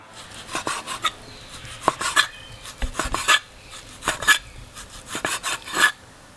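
A sharp knife slicing beef thinly against the grain on a cutting board for Thai beef and pumpkin curry, with a steady series of close, crisp cuts and board taps, no talking.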